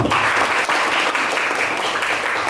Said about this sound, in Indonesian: Kasih aplaus dong untuk kita semua